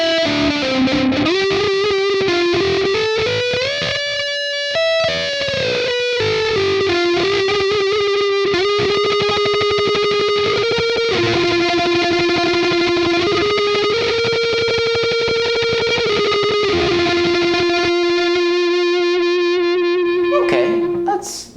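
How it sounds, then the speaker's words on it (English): Distorted electric guitar lead played through a Rogue analog delay pedal, sustained bending notes and slides with echoing repeats, loud and continuous with no talking. "let's see what this Rogue analog delay can do for the lead sound."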